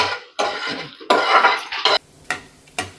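Dried red chillies frying in about two spoons of oil in a pan while making gongura pachadi, heard as bursts of crackling sizzle broken by short gaps and a couple of sharp clinks.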